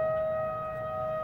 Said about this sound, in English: there goes the tornado sirens